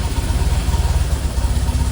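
Classic Fiat 500 engine running at a steady idle just after starting, a dense, even low rumble with rapid pulsing that stays close and loud throughout.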